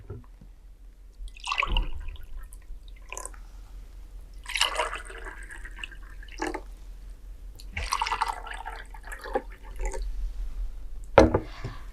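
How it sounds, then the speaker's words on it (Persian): Water poured into three glasses for a buoyancy experiment with eggs and salt, heard as several separate splashing pours with quiet pauses between them in a still room. "در مرحله اول در هر 3 گیلاس آب می اندازیم"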